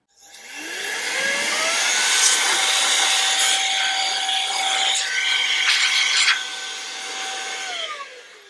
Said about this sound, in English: I could go along here and blow inside, and ideally the dust will come out the other vent ports